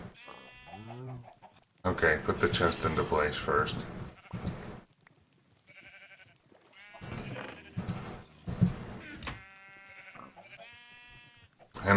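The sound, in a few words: sheep bleating in a Minecraft modpack video game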